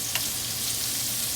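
Sausages frying in a pan for a rapini pasta, giving a steady, close sizzle and crackle throughout with no talking.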